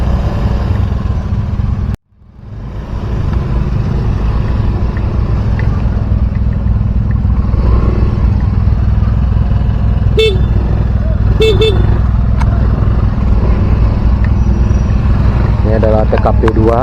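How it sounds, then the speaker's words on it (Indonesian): Heavy traffic jam at a crowded Indonesian grave pilgrimage site, with a dense, loud, steady drone of motorcycle and car engines close by, several short horn toots, and people talking under the din. "Cukup macet di sini di TKP 2 ya"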